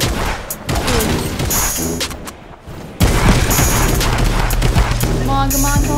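Gunfire in Fortnite during the Mecha vs Monster event, rapid bursts and booming shots crackling loudly, with a short lull before heavier firing resumes amid game effects.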